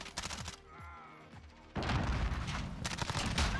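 Flashbang grenade going off in Modern Warfare gameplay, a sudden loud blast midway that gives way to a dense, sustained wash of noise and crackling gunfire.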